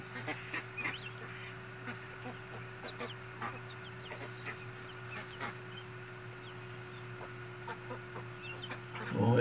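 Bengala chickens clucking softly around a backyard yard, scattered short clucks and chirps over a steady electrical hum, fairly faint and distant, with a louder bump at the very end.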